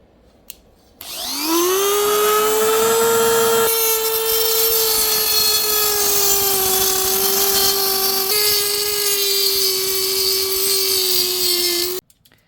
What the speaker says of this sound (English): we are going to make a cut at 30 centimeters right here